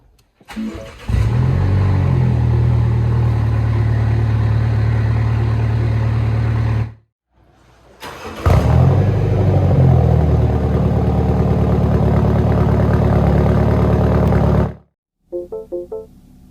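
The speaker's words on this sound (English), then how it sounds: "So now let's start the Cooper S up." A MINI Cooper S engine cranks and catches with a loud roar, settles into a steady idle, then cuts out. It fires again, idles for several seconds and shuts off, followed by a few short electronic chimes.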